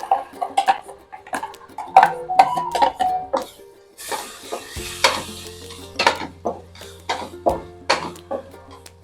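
Ground masala paste sizzles and is stirred in hot oil in a pan, with repeated close scraping strokes, a steady frying hiss and the occasional clink of a spoon against the pan.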